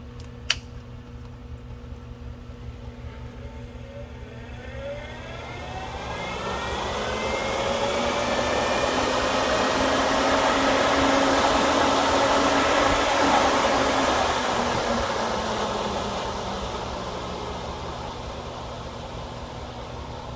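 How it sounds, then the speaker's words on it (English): 14-inch roof fans on a KRX1000 side-by-side spin up with a click and a rising whir, then hold a loud, steady airy roar close by. "These are 14-inch fans."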